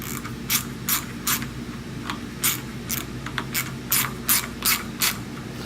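Ratchet wrench clicking as a fastener on a 2004 Ford F150 engine is loosened, with quick bursts of pawl clicks in an uneven rhythm, close up over a low steady hum.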